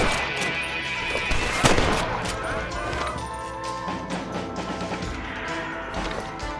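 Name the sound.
gunshots in a video game shootout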